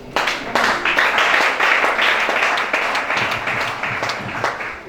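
A church congregation at a Sunday service breaks into loud, sustained applause, many hands clapping densely and close for several seconds with scattered sharper claps, slowly easing toward the end.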